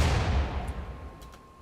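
A single low, booming cannon blast from the video game Rimworld, heard alone with a rumbling tail that fades out.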